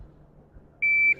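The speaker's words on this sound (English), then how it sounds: "Shot timer." A shot timer at a shotgun range gives a single sharp, steady electronic beep lasting about a third of a second after a quiet moment, loud and close.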